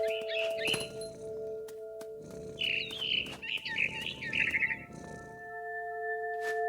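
A mama bird in the game What Remains of Edith Finch gives a run of chirps and warbling calls over a low ambient drone, in short bursts across several seconds.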